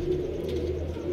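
A soft, steady pigeon coo sounds faintly nearby, a low sustained murmur with no voices present.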